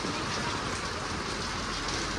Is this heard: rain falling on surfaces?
yes